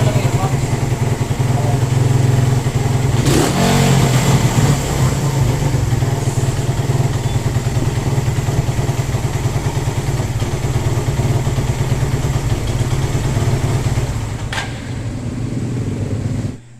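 A nearby motorcycle with a carburetor fault idles loudly and continuously, its rough, slightly uneven rumble dipping near the end.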